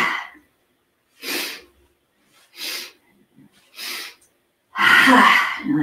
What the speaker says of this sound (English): Inhale, inhale, inhale, exhale